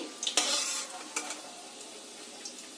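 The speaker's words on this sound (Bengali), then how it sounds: "পনিরটা বেশি কড়া করে ভাজছি না, লাল লাল করে ভাজছি না, হালকা লাল করেছি।" Lightly browned paneer pieces frying in oil in a home kitchen, a bright sizzle with a few sharp scraping clinks of a utensil against the pan, loudest early and easing into a softer crackle.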